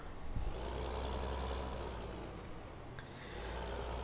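A farm tractor in Farming Simulator 15 reverses with a front weight attached, its steady low engine drone running throughout, with a few faint high beeps and hissing clicks over it.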